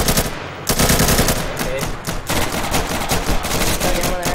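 Sustained automatic gunfire in the Insurgency video game, loud and dense with rapid overlapping bursts and shots from several directions, continuing throughout without a pause.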